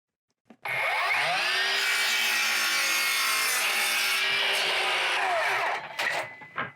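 Hand or power sawing through a piece of old barnwood for a brace: one continuous, loud rasping cut lasting about five seconds, ending with a few short scrapes and knocks as the piece comes free.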